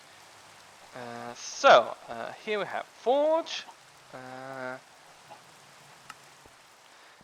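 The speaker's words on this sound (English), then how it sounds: "under this gloomy rain" Steady rain falls in Minecraft, a faint continuous hiss in the background while someone speaks over it for several seconds.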